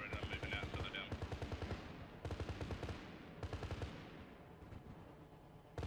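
Gunfire in the military shooter ArmA 3, loud bursts of rapid automatic fire in several clustered volleys with short gaps, sharp cracks echoing between strings of shots, with voices speaking over parts of it.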